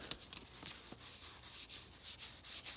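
A Duke avocado leaf is rubbed between the fingers close up, giving a quiet, dry scratchy rustle in uneven short strokes with no voices.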